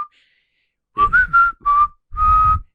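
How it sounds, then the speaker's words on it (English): People whistling in several short, shrill tonal bursts after a quiet moment, with a low rumbling background beneath the later whistles. "Why are they whistling?"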